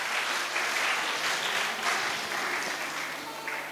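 A school audience at an international school claps together in a sustained, even patter of many hands, moderately distant and without voices.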